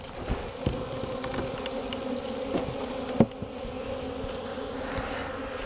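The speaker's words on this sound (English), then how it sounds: "Give the bees a nice, easy path to crawl back in there if they need to." Honeybee swarm buzzing at a hive entrance, a steady close drone of many bees with scattered louder passes and a few knocks, no talking.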